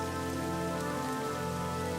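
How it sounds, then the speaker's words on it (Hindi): Heavy night rain pours down in a dense, continuous hiss of drops hitting surfaces, steady and enveloping with no breaks. "बारिश हो रही है"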